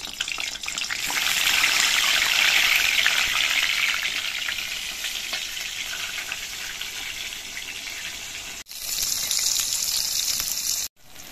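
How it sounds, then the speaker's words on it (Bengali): Eggplant pieces frying in mustard oil in a wok produce a loud, close sizzle that swells early, eases gradually, then resumes after two short breaks. "কড়াইতে সর্ষের তেল দিয়ে আমি বেগুনগুলোকে ভেজে নিচ্ছি।"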